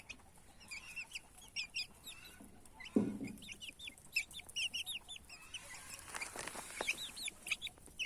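Chickens cluck and chirp in short bursts throughout, with small high peeps of turkey chicks mixed in and a soft rustle of scratching nearby.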